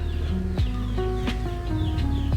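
Young chicks pecking outdoors in the sun give short, high chirps and soft clucks, several overlapping, nearby and moderately loud against a low background hum.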